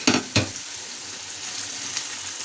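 Mushrooms are added to a pan of hot oil and fry with a steady, soft sizzle, opening with two quick clattering stirs up close before settling into an even hiss.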